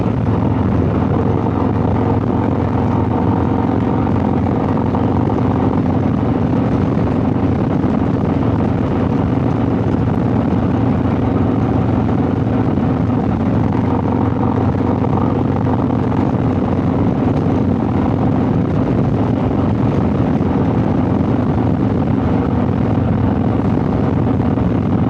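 Steady engine drone and road rumble from a motorcycle riding through Conconully State Park on a dark, gloomy fall mid-morning, continuous and loud throughout with no talk.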